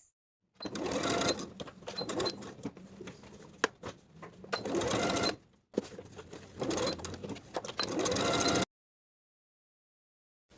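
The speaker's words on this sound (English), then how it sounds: "Then we're going to sew a rectangle around those raw edges of the elastic to secure in place." A sewing machine stitching a rectangle to join the raw ends of elastic for shorts waistband, close rapid mechanical chatter in several bursts separated by short pauses, then silence.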